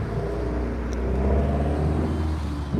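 A Subaru BRZ car drives close by with a loud, steady engine rumble and road noise for a few seconds, with no speech.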